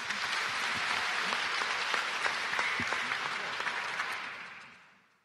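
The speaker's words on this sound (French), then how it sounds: "Je pense qu'on peut encore les applaudir." Dense, steady clapping from a large audience at a youth talent event with the French president, holding level for several seconds before fading quickly at the end.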